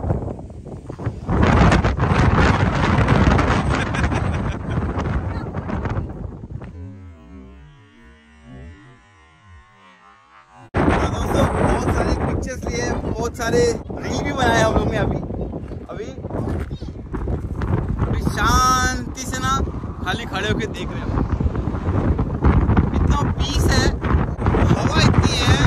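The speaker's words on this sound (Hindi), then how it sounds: "और इतना जोर से हवा चल रही है ना भाई, गाड़ी का दरवाजा बंद नहीं हो रहा था मुझसे।" Strong gusting wind in a mountainous area near Livermore, California buffets the microphone with loud, roaring rumble for most of the span, easing briefly in the middle before surging back, with someone talking over it.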